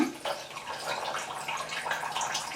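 Water flowing out of the water-cooling lines and water block of a water-cooled Traxxas Slash 4x4 RC car, a steady close splashing trickle that runs alone throughout.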